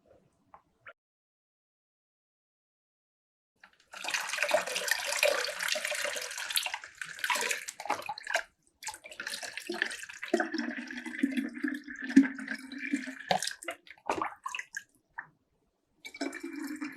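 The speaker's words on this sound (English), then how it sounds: "We need to fill water into this." Water is poured and splashes into a container in a science lab for a hydrostatic pressure activity. A steady gushing pour runs for several seconds, then shifts to irregular splashes and trickles, close by, with no talk.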